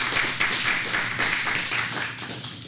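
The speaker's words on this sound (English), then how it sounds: "So nice round of applause for all of our viewing audience for tuning in." A round of applause for a television show's viewing audience, with a few close hands clapping in an uneven rhythm that fades slightly toward the end.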